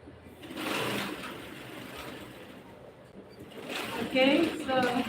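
A sewing machine runs in steady bursts while stitching bias binding around a garment armhole, its whirring mixed with voices talking nearby.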